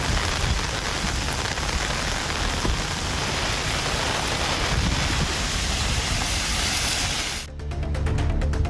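Heavy rain pours onto roads around Arimadam, Thirumayam and Ponnamaravathi, where water pools in low spots. A dense, steady hiss of downpour runs throughout and shifts briefly near the end, with no talking.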